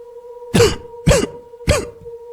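Three sharp, close coughs in quick succession, evenly spaced, over a faint steady tone.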